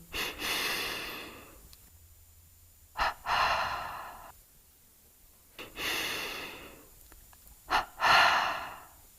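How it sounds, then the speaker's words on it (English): Double breathing exercise in an energization routine, with paired breaths in and out through the nose and mouth: close, airy double inhales followed by long exhales, repeated twice in a steady rhythm, no talk. "Double breath in, double breath out."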